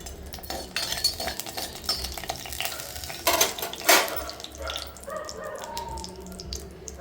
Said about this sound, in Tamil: வெந்தயம் நல்லா பொரிஞ்சு வரணும் கச்சட்டிங்கிறதுனால கொஞ்சம் லேட்டாகும்